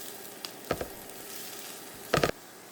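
Onion and carrots sizzle in a pan while being stirred together, giving two short bursts of crackling frying noise over a faint steady hiss, with no talking.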